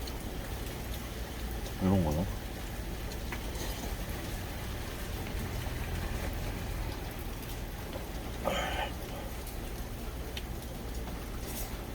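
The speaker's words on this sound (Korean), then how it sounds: "날씨가 그동안 진짜 더웠는데 비 신나게 옵니다" Heavy typhoon rain pours in a constant, dense hiss, heard from inside a truck, broken by a couple of short knocks or clunks nearby.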